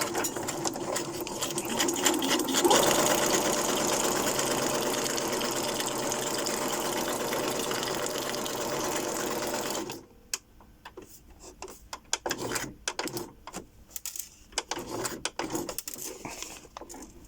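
A sewing machine runs a straight stitch around a handmade journal, a steady close whir for about ten seconds before it stops and gives way to scattered clicks and handling noises.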